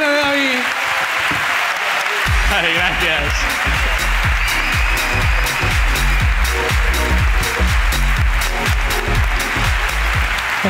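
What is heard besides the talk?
audience applause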